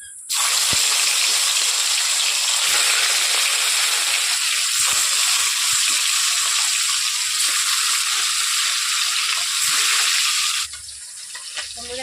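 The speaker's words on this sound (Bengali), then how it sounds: "সাথে আমি এখন মাছগুলোকে ভেজে নিচ্ছি" Pieces of katla fish frying in hot oil in a pan, a loud continuous sizzle and hiss that holds steady before cutting off abruptly near the end.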